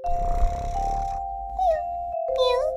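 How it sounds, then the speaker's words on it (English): A cat meows a few times in short drawn-out calls over a faint steady tone, close and fairly quiet, with brief pauses between cries. "A cat is a small furry animal with whiskers that usually lives in your house."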